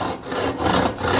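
Handsaw crosscutting a wood board along a knife wall, a steady run of close, raspy back-and-forth strokes with brief pauses between them.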